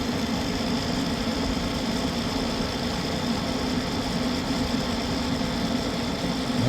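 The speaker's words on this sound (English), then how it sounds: "let's watch that auger for a moment. Or, sorry, the motor." The auger motor of a Pit Boss pellet grill spins steadily, giving a constant, even mechanical hum with no breaks, alone and close.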